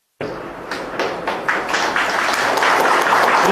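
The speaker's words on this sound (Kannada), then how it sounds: "ಚಪ್ಪಾಳೆ ಬೇಡ." An audience at a political speech after the 2024 Lok Sabha election result in Mandya bursts into applause that starts abruptly and builds into sustained, dense clapping from a crowd.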